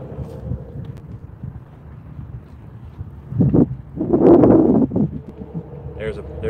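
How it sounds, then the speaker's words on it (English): Wind buffets the microphone out on the water during inshore kayak fishing at Canaveral Locks, Florida, a steady low rumble that swells into louder gusts, with someone talking over it. "The wind's pushing me into the shallows here."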